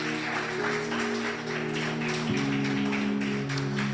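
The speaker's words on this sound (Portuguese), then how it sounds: "Dê uma salva de palmas ao Senhor Jesus." A congregation applauds at the close of an evening church service, a steady wash of clapping held at an even level, with sustained organ or keyboard tones underneath.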